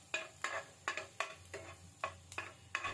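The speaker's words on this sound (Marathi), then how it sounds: "लसूणमधील जो कच्चेपणा आहे तो निघून जाईपर्यंत आपण तो ह्या बटरमध्ये परतून घेणार आहोत" Garlic sautéing in butter in a pan, heard as a faint, quiet series of rhythmic scraping stirs about twice a second over a soft sizzle.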